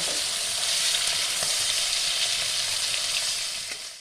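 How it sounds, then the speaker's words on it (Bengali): Prawns fry lightly in hot oil in a pan, turned to cook both sides, giving a steady, close sizzle and crackle that holds for the whole stretch and fades slightly at the end, with no voices. "এপিট ওপিট একটু হালকা করে ভেজে নেব।"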